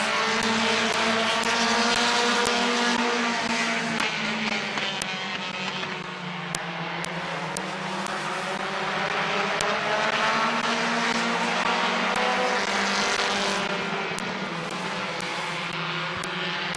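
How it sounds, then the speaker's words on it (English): Race cars at Midvale Speedway in a 2024 race, a loud continuous roar of several engines rising and falling as they circle the track, with faint sharp clicks, no talk. "Side by side for the race lead, Jonathan Weber, Justice Lenars."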